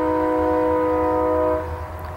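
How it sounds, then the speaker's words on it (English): A train's horn sounds as one long, loud multi-tone blast near Woodhenge at Cahokia Mounds, a steady chord that cuts off after about a second and a half, leaving a low rumble. "to wait for the train to quit honking"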